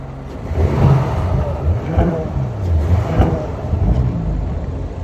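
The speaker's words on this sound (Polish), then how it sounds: "jak się słyszy ten samochód, jak przejeżdża obok Was, szczególnie na tym, wiecie, pełnym wciśnięciu gazu" An Audi car engine revs hard under full throttle, the pitch rising and falling as it accelerates close by.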